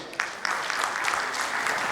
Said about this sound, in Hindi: आप लोगों को मैं रिक्वेस्ट करूंगा और जोर से ताली बजाने के लिए